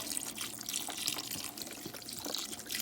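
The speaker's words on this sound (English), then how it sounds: "I'm going to throw in our chicken broth" Chicken broth pours into a pot of Southern-style collard greens, a steady close splashing, trickling pour running for a few seconds with bright liquid hiss and no talking.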